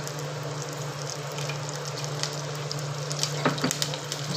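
Green chillies drop into hot oil with garlic for Malvani-style okra bhaji, giving a steady sizzle and frying crackle with a few sharper pops near the end.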